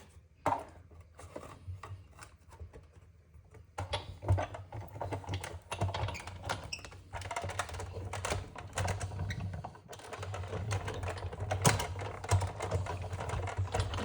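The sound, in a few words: cutting paper for a scrapbook journal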